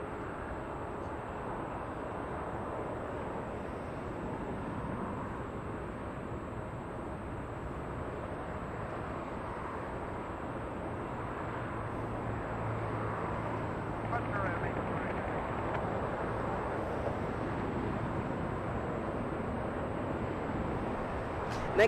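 A Korean Air Boeing 747 arriving from Seoul Incheon at Los Angeles gives off a steady, distant jet roar that swells slowly toward the end, with a commentator talking over it.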